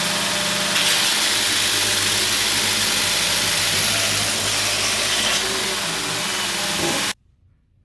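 A Grizzly 2x42 belt grinder running an 80 grit belt on 5-inch wide, 3/16-inch thick mild steel gives a steady, loud motor whine and grinding hiss that holds without a break and then cuts off abruptly.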